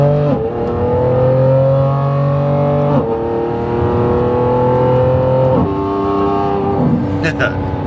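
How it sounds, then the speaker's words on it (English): A Lamborghini Revuelto's naturally aspirated V12 engine revs in long sustained pulls, its pitch stepping up through several gears, loud and close, with a brief sharp burst near the end. "There's nothing quite like hearing a naturally aspirated engine, especially a V12."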